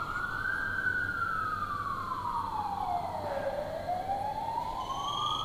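An ambulance siren wails continuously, sweeping slowly down in pitch and then back up, loud and prominent over a low road rumble.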